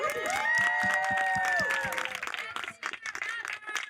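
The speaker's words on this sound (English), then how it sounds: "I would like to give them a round of applause" Wedding guests applauding and cheering the vendors at a reception, a lively burst of clapping with whoops and raised voices that thins out toward the end.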